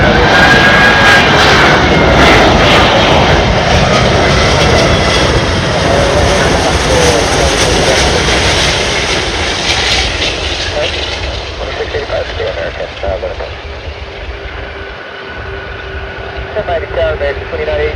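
A British Airways Airbus A380 jet landing at Miami after a flight from London Heathrow gives a loud, steady engine roar that slowly fades, with radio voices talking faintly over it.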